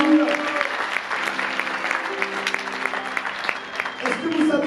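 A congregation at a 2019 Christian congress applauds in a church hall. Steady clapping runs throughout while voices call out and sustain tones above it.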